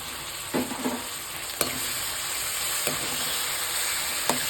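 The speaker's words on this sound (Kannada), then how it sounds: "ಈರುಳ್ಳಿ ಫ್ರೈ ಆಗಿದೆ. ಸ್ವಲ್ಪ ಒಂದು ಸ್ಪೂನಷ್ಟು ಶುಂಠಿ ಬೆಳ್ಳುಳ್ಳಿ ಪೇಸ್ಟ್ ಹಾಕ್ಕೊಳ್ಳೋಣ" Onions sizzle and fry in a pan with a spoonful of ginger garlic paste for vegetable kurma, a constant loud hiss broken by several sharp clinks and scrapes of a stirring spoon.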